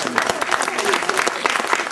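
A small audience applauds a child at a Purim celebration, steady dense clapping running through the whole stretch with some voices mixed in.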